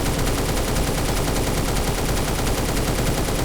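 Automatic gun in Phantom Forces firing at 600 rounds per minute: a continuous loud, rapid stream of shots with an even rhythm and no gaps.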